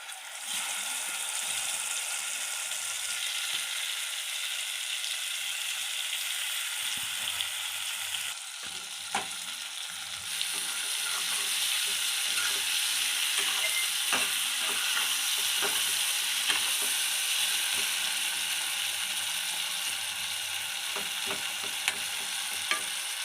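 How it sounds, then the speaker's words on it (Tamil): Raw banana slices fry in hot oil for a Tamil-style raw banana fry, giving a steady, close sizzle with scattered scraping and clicking from stirring and no talk. "இப்போ எண்ணெய் காஞ்சிருச்சு. இப்போ வாழைக்காயை போட்டு நல்லா பரட்டுவோம்."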